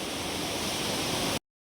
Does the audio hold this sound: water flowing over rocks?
yes